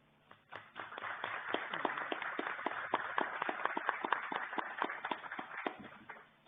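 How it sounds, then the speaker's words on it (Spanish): An audience at an academic talk on finance, tax law and municipalities applauds in a hall, a brisk burst of many hands clapping that swells quickly, holds steady for several seconds and then tapers off. "Renovamos el aplauso entonces"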